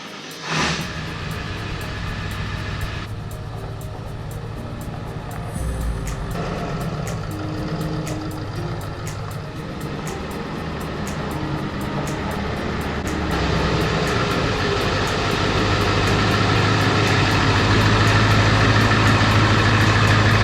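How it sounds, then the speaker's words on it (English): A large diesel truck engine rumbles steadily and close by, growing louder toward the end as it pulls in, with faint clanks in the background. "We're gonna get the truck pulled in here"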